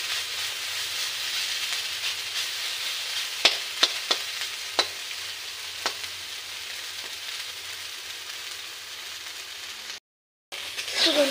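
Dhenki greens frying in a pan over a gas flame give a steady, soft hiss of sizzling oil throughout. A few sharp clicks or spatters pop out near the middle, and the sound briefly drops out near the end.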